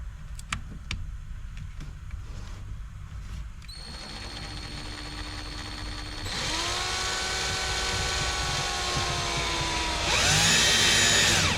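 A Harbor Freight power tool drives screws into the back of speakers, a close whirring motor that runs in rising bursts, growing louder with each pull, over faint scattered knocks at the start.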